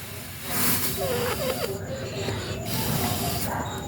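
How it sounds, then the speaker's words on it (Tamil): A steady hissing, bubbling rush like milk coming to a boil in a pan, close up, with a faint voice murmuring underneath. "பால் கொதிக்க தொடங்கிடுச்சா"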